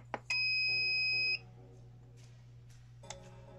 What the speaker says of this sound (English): So we're going to press the power setting is going to beep loudly.